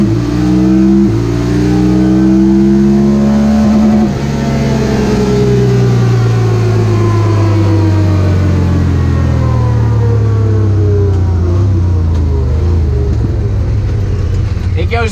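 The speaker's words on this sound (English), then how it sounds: "now we're gonna do low four-wheel drive, put it back in automatic, and just watch this thing shift" Honda Talon 1000R side-by-side accelerating hard in low four-wheel drive in automatic mode, its loud engine climbing in pitch and dropping through repeated upshifts right up close.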